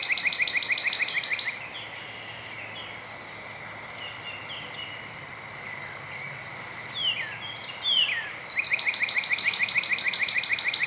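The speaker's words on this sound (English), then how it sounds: "hear all the various bird sounds in the background." Sparrows and other birds chirp in a garden on a quiet morning, with rapid repeated calls coming in bursts at the start and end over a soft steady background hum.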